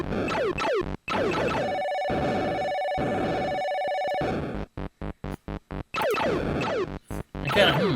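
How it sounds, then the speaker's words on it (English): A ringtone-like notification chime plays loud and alone during a livestream of Asteroids on the Atari 2600, with repeated electronic tonal bursts and a sustained ringing tone in the middle. "And I got a notification."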